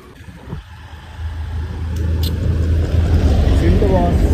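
A car engine runs steadily with a low rumbling drone that builds and grows louder while a learner drives, with people talking over it.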